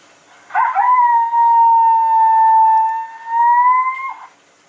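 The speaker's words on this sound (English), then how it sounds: "This is the female coyote." A female coyote howl played from an Icotec 300 gen 2 electronic predator call: one long, steady, loud wail lasting over three seconds, with a slight dip midway and no talk over it.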